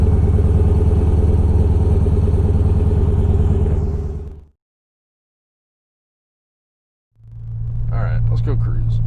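A 1978 Datsun 280Z engine running while driving gives a loud, steady low rumble that cuts out to silence, then returns as a rough idle with clatter.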